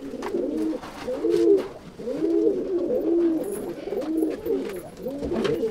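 Pigeons in a pigeon loft coo in repeated soft, throaty rolling calls that overlap one another steadily, close by, over faint background noise.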